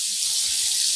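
Cold water running from a tap into a plastic container, a close, steady bright splashing stream with no pauses.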